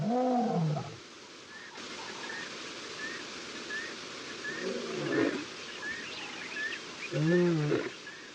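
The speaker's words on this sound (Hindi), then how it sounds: "दहाड़ की आवाज मैदान से आ रही है।" A lion roars in the savanna in several deep, powerful bursts, the loudest near the start and end, with a quieter growl in between over a steady wild outdoor background.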